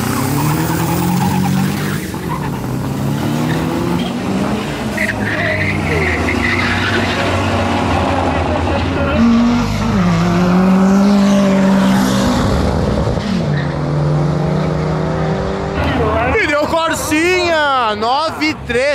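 Drag racing cars, a Jetta and a Gol, accelerate hard down the strip with loud engine roar and tire skid, while a commentator talks excitedly over the noise throughout.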